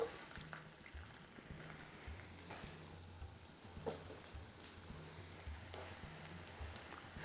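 Onion frying in hot vegetable oil in a balti pan, a steady close crackling sizzle throughout, with occasional clinks and scrapes as it is stirred.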